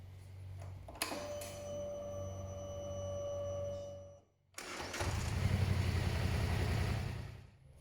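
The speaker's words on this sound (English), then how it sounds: "we're gonna go ahead and start the engine, give it to a count of 10, shut it off" A Polaris Sportsman 850 ATV engine cranks and catches, then idles with a steady mid-pitched drone before cutting off briefly, then restarts into a louder, rougher run, close and clear with no talk.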